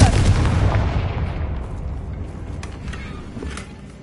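In a Harry Potter video game, a Confringo spell bursts into a loud explosion up front, and its rumble then rolls away slowly into a fading tail over several seconds. No one speaks.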